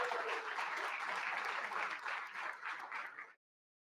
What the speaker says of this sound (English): Let's give them a round of applause for helping us offset the cost.